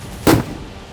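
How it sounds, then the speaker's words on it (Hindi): One loud, sharp firecracker blast goes off close by in a village, set off to chase away wolves, then fades into a quiet outdoor background. "भेड़ियों को खदेड़ने के लिए बहराइच के गांव-गांव में इस तरह के पटाखे फोड़े जाते हैं।"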